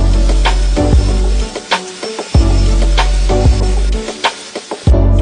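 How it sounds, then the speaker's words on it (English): Power drill pre-drilling holes in plywood on a workbench, several short loud bursts of whirring with brief pauses between them, no talking. "I'll just pre-drill."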